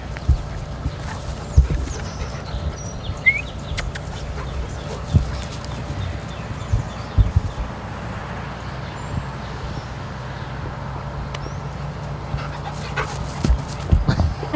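A dog pants and plays at an animal shelter, making scattered light taps and scuffles over a steady low hum of the room, with no voices heard.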